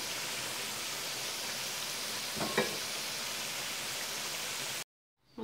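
Steady olive oil sizzle hisses continuously as floured eggplant slices fry, with a couple of faint clicks midway before the sound cuts out.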